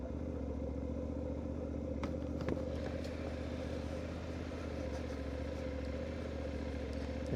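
A motorcycle idles on a dark side road at night, its engine a steady low drone throughout with a few faint clicks and rattles on top and no talking.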